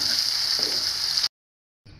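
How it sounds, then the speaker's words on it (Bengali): Flat beans and potatoes frying in a pan, a steady close hiss of sizzling oil that cuts out abruptly, then resumes briefly at the end. "আলু ভাজি করছি।"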